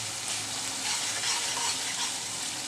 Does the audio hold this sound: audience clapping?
no